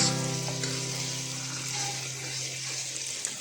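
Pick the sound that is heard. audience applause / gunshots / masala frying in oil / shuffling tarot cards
masala frying in oil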